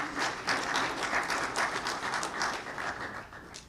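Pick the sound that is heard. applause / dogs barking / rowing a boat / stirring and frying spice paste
applause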